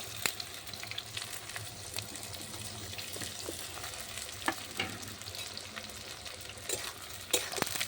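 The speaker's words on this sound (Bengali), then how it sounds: "বেরেস্তাটা ভেজে নেবো পেঁয়াজের বেরেস্তাটা হয়ে থাকে" Sliced onions fry in oil for a chicken beresta, making a continuous close crackling sizzle with sharp utensil clicks and light scraping scattered through it.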